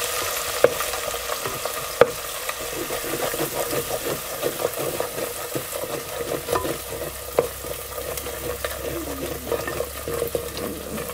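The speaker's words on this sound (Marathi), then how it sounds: "चांगलं असं आपल्याला ना ह्यामध्ये तेलामध्ये परतून घ्यायचं" Masala frying in hot oil for a village-style chicken curry, a steady crackling sizzle with scraping stir strokes and occasional sharp clinks, close and continuous with no talking.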